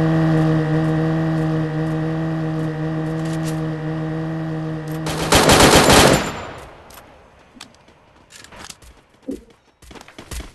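Automatic gunfire in a mobile shooter battle-royale match on a phone, a loud sustained burst of rapid shots over a steady engine hum, then the firing cuts off into quieter scattered clicks and small noises.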